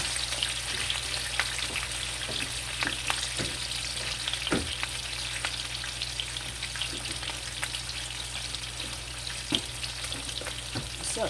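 Steak searing and browning in butter in a pan: a steady, dense sizzle and crackle holding throughout, with scattered sharp pops and spits, close and continuous, no voices.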